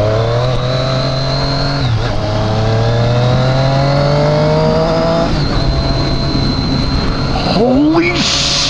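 A 2017 Triumph Street Triple RS motorcycle revs hard and accelerates up through the gears, its loud, close engine note climbing in pitch with quick shifts between rising pulls, while a rider's voice exclaims near the end.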